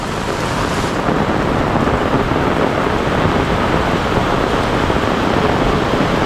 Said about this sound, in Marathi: स्टार्टिंगला पाऊस सुरू झाला आहे